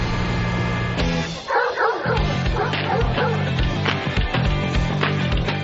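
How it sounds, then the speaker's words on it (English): A dog yips and barks in short bursts amid a noisy outdoor radio broadcast crowd, the barks mixed with background chatter and music-like hum. "we got Barking Dog out here today"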